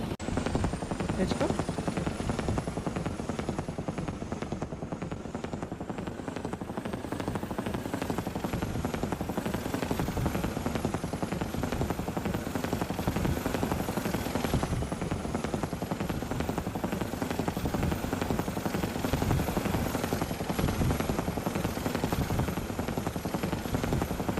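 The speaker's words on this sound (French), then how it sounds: "Je vais essayer de stabiliser l'hélico." A video game helicopter's steady rotor thrum and engine whine run continuously and loud throughout, with a voice occasionally talking over it in French.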